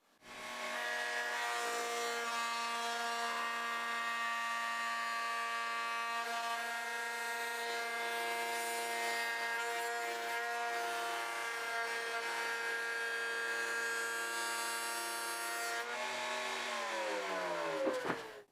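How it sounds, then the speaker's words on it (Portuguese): Wood router fitted with a flush trim bit, its guide bearing following a template to trim excess material from a braided wooden cutting board. A loud steady high-pitched whine runs unbroken for about 16 seconds, then the motor spins down at the end. "utilizei uma fresa copiadora para remover o excesso de material enquanto o rolamento guia seguia o molde"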